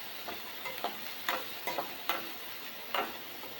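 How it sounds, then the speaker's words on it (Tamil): Finely chopped onions sauté in a pan for a prawn gravy, giving a soft, steady sizzle broken by a few sharp scrapes and taps of stirring, fairly quiet and with no voices. "வெங்காயத்தை வதக்கிக்கலாம்."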